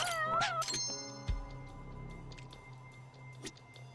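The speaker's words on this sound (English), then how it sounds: "Cat." Cat meowing in the video game Judgment, a few short plaintive mews near the start followed by a soft squishy thud and quieter game ambience.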